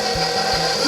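An electric mixer whirs steadily through vegan chocolate chip cookie dough, a loud, even motorized drone with faint rhythmic thumps as the beaters turn, no voices.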